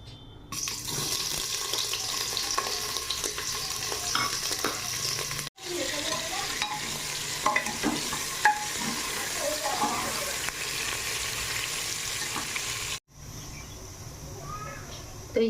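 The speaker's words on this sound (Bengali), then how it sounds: "আর এদিকে সবজিটাও চাপিয়ে দিই।" Potato and soybean vegetable curry frying in a pan, a steady sizzle with scraping stirs and clinks, broken by two brief cuts, with some background voices.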